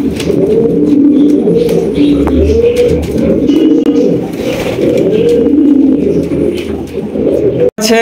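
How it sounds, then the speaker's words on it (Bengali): A pair of red Strasser pigeons coo close by in a steady, repeating rolling rhythm that runs the whole time, ending with one sharp click near the end. "একজোড়া স্ট্রেচার কবুতর, আর এটা কালারটা কি ভাই? Red colour."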